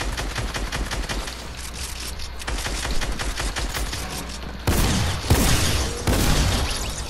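Rapid gunfire from a Fortnite battle royale match, dense crackling shots in a steady stream, then louder, heavier blasts toward the end, close and loud with no talking.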